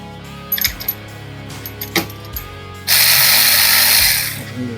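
A ratchet loosens an alternator bolt on a 2000s Mini Cooper S R52 engine, giving a few short metallic clicks and clunks, then a sudden burst of harsh broadband hiss or grinding that fills the last seconds.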